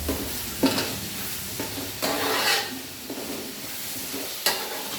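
Curry leaves and onions being stirred in a sizzling pan of chicken curry: a few distinct scraping strokes of the spoon break through a continuous close frying hiss, with no one talking.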